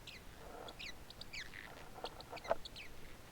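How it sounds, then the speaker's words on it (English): Small pet bird chirping and peeping indoors, a few short clustered calls spread across the moment, fairly faint against a quiet room with no talking. "you can hear the little bird with me"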